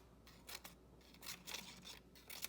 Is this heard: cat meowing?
no